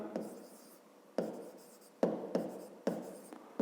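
A pen writes by hand on paper in sharp scratchy strokes with short pauses between groups of marks, quiet and close.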